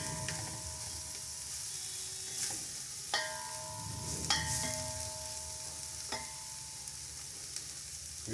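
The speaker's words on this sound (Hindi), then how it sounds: "और अब मैं इसमें अपनी जो कैरेट्स हैं वो ऐड करूँगा। ये सारा इसमें मैं मिक्स कर लूँगा।" Carrots being stirred into egg fried rice in a pan, with a steady low sizzle and a few sharp scraping clicks of the spoon against the pan.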